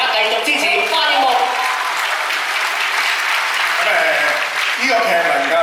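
A theatre audience applauds at the closing performance of an original musical, with dense, loud, continuous clapping from a large crowd and voices mixed into the ovation throughout.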